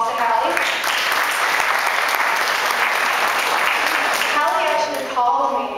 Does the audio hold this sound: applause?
yes